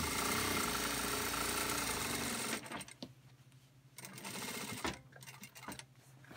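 A Singer industrial sewing machine stitching fabric, loud and close with a steady whirring drone that stops abruptly, then gives way to scattered mechanical clicks and a few brief restarts.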